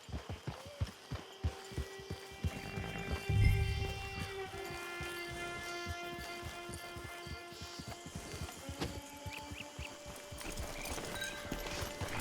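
Horse hooves clip-clopping in a steady trot in Red Dead Online, close and clear, with a brief whinny-like swell partway through over soft game music.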